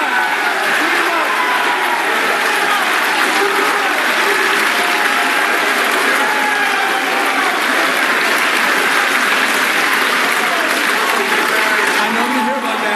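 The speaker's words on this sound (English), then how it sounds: "That was the loudest applause we got." A military graduation audience gives long, loud applause mixed with cheering and crowd voices, a continuous roar that stays steady throughout.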